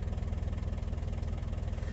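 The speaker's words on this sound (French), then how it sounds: "il a vraiment un super ralenti. Hein. Bon, le bruit, c'est un diesel" Diesel engine of a Toyota Land Cruiser LJ70 idling close by, a steady low rumble with a fast even knock running unbroken and loud, with no voices over it.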